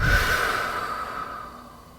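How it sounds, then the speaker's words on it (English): A long, audible exhale in a guided deep-breathing exercise: one close, breathy sigh that starts strong and slowly fades away, with no talking over it. "Breathe in what you do want. And exhale the distractions."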